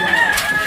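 A short burst of rooster crowing, loud and close, a single strained call cut off abruptly.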